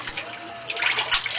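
Water pours into a GE Hotpoint washing machine tub as it fills. The trickle and splash are close and moderately loud, with brief bursts of gushing.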